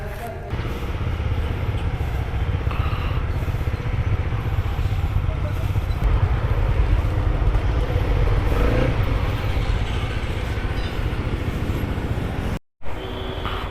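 A Honda CB 300 R motorcycle on a breakfast group ride near Sullia gives a steady, loud engine drone mixed with wind rush, nearly unchanging throughout, with one brief dropout near the end.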